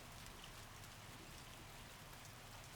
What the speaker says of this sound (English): And we had our first hailstorm today.